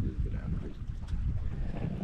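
Gusty storm wind blows across the microphone at a tilapia fishing spot, a steady low rumble with no clear voices.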